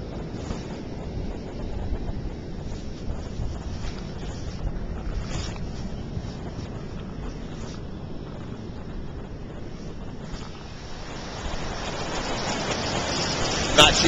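Steady rushing water and wind noise close by, a continuous wash of surf breaking against the Ventura break wall, heard from a kayak, swelling slightly louder toward the end.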